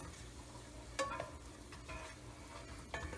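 Garlic and parsley sizzle in olive oil in a pan, a steady crackling fry with a few sharp scrapes of stirring, close and fairly quiet, with no talking.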